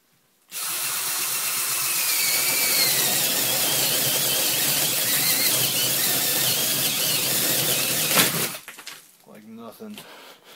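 A Dewalt DW920 drill converted to lithium power drills through cardboard with a loud, steady high-pitched whine for about eight seconds, then winds down abruptly, followed by brief rustling.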